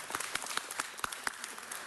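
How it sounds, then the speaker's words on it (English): Audience applause at a Los Angeles city council meeting honoring an organization's 90th anniversary: a short burst of many hands clapping with distinct sharp claps on top, steady and moderately near for about two seconds. "Round of applause."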